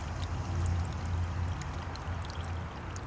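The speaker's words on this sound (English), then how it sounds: "So keep pouring until the fluid starts backing" Fluid pours into a reservoir in the engine bay of a BMW 4 Series, a continuous close gurgling stream with a low bubbling undertone for about three seconds.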